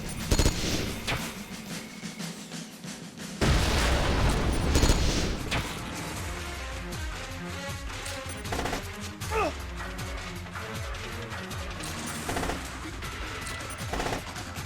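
Sustained gunfire and explosions in Metal Gear Solid Peace Walker, dense rapid shots and booms layered over game music throughout, loud and continuous.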